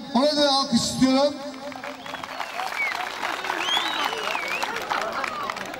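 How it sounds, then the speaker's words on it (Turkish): Applause for the village headman at a Hıdırellez spring festival in a Turkish village, loud sustained crowd clapping after a voice speaks over a loudspeaker at the start. "gerçekten muhtarımızı tekrar alkışlamanızı davet ediyorum"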